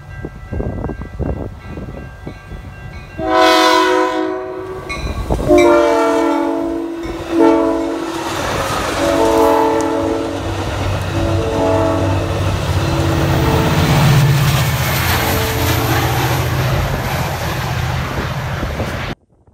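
An inbound metro commuter train passes close by, sounding repeated loud horn blasts over a steady rumble and rail clatter that holds for most of the clip.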